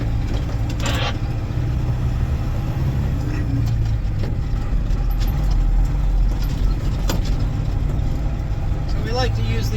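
A vehicle engine rumbling steadily as it drives out of a pit on an off-road worksite, a continuous low drone with a voice talking over it.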